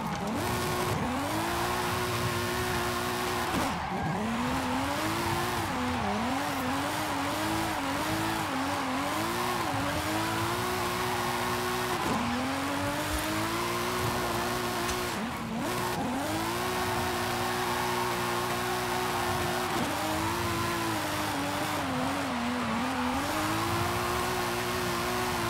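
A rear-wheel-drive 2005 BMW M3 with a drift tune slides through corners in Forza Horizon 5. Its engine revs and drones continuously, loud and close, while the tires squeal in long swells. No one speaks.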